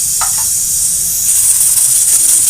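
Small puti fish frying in a pan as they are stirred, a loud steady sizzling hiss with a few faint scraping touches early on.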